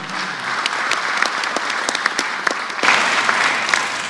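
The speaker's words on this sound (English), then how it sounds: "another round of applause to our excellent panel" A hall audience at the Land Forces Commanders Symposium 2025 applauds a panel, producing a continuous wash of clapping with scattered sharp individual claps that swells briefly near the end.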